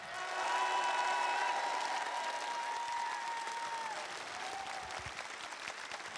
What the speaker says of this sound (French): Messieurs, dames, applaudissez-les, s'il vous plaît.